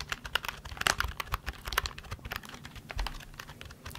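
Typing on a cheap non-mechanical computer keyboard, with soft, irregular key taps in quick succession, close up and fairly quiet, with no voices.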